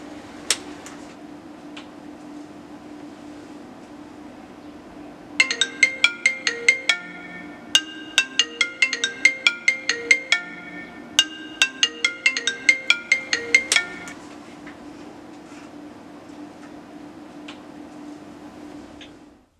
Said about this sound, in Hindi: और जब भी इसको ऑन करेंगे तो तुरंत फोन आ जाएगा अपने मोबाइल पे।